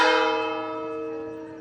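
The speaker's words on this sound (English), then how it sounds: "The breakfast bells are ringing." A single church bell strike on the Camino de Santiago rings out loud and clear, its bright tone slowly decaying into a long humming resonance.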